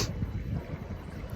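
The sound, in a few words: wind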